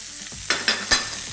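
Onions and carrots sizzle in a pot while three sharp scraping stirs cut through the short burst of frying.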